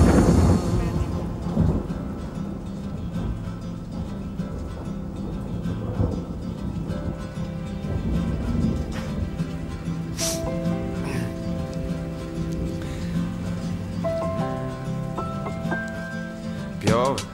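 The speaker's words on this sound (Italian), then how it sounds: "senti come piove, madonna come piove, senti come viene giù" Heavy rain pours down in the Tyrol region of Austria, with low rolling rumbles of thunder. A steady, dense roar lasts throughout, and some tonal sounds appear later in the recording.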